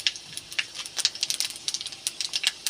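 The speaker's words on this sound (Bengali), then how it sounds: "ডালটা ঢেলে দিয়েছি।" Dal tipped into hot tempered oil with bay leaf, dried red chilli and five-spice in a kadai, giving a busy spitting crackle of sharp bursts close by, with no voices.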